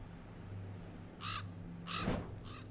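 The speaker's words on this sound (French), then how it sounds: "Bah, il y a des corbeaux déjà." Crows cawing in a zombie video game, three short harsh caws spaced out over a faint steady ambient hum, fairly quiet with no talk.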